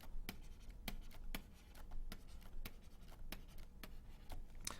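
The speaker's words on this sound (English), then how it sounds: "Let me just write these out." Chalk or marker taps and scratches on a board as tag sequences are written out during a natural language processing lecture, a string of quick sharp strokes in an irregular rhythm over a quiet room, with no talk.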